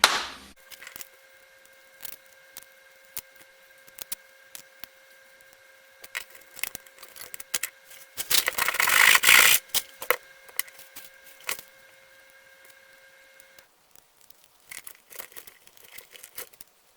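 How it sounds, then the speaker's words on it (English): A can of Monster energy drink is cut open in a long stretch of close scraping, crinkling metal and scattered clicks. One loud, dense tearing burst sits in the middle, with no one speaking. "going to cut the can of Monster"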